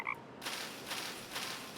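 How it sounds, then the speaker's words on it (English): A cartoonish frog croak from the city-building game Timberborn, a soft bubbly chorus of repeated croaks in a steady gentle rhythm, after a brief chime, with no talking over it. "Nice little frog sound effect in the spatter duck."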